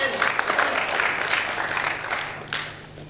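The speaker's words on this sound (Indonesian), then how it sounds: "Tepuk tangan." An audience at a regional council dialogue bursts into applause, a dense wash of clapping that starts strong and gradually thins out over a few seconds.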